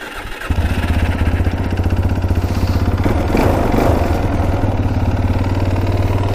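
A small quad bike engine cranks and catches on choke, then settles into a steady, loud, rattling idle close by.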